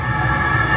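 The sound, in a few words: emergency vehicle siren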